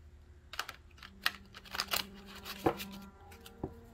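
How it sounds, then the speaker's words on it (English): Large oracle cards are shuffled sideways by hand, producing a series of crisp, close riffling flicks and soft slaps scattered irregularly over a few seconds with no talking. "This deck is too big for my hands to like shuffle, so I tend to shuffle this way, like sideways."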